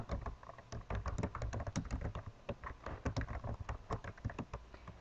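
Rapid, uneven tapping on a computer keyboard while typing login details, close and fairly loud, with no talk over it.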